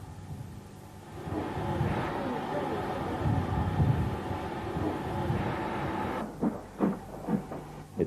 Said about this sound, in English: This former London and South Western Railway coach was filmed at King's Norton.